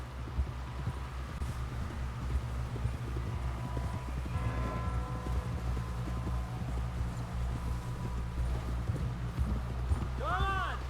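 Horse hooves galloping in Red Dead Redemption 2, a quick rhythmic clip-clop running steadily throughout at moderate level, over a low steady hum, with a brief whinny-like cry near the end and voices talking.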